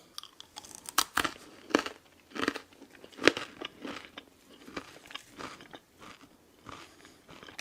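Crumbly, hard rye Knäckebrot crispbread from a late-war German ration being bitten and chewed up close, a series of irregular dry crunches and cracks with quieter chewing between them.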